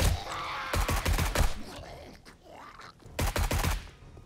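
Modded AR-15 rifle fire in 7 Days to Die, two close loud bursts of rapid shots separated by a quieter gap, the first of five or six rounds, the second shorter.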